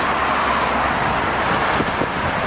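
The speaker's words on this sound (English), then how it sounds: "With cars on the highway." Cars drive along Ritchie Highway near a stoplight, a continuous rolling rush of traffic with a vehicle swelling past toward the end. No one speaks.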